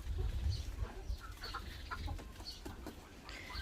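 Backyard chickens, including silver Adler hens, cluck softly and irregularly in a yard at moderate distance, scattered calls over a steady low rumble of outdoor background noise.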